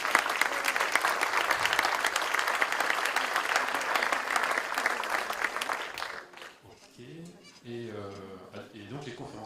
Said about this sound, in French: Je pense qu'il faut applaudir nos deux conférenciers.